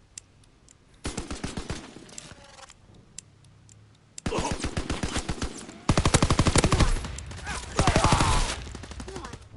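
Automatic gunfire in a video game comes in rapid, loud bursts, with several dense volleys of rattling shots separated by short pauses and a few isolated single shots between them.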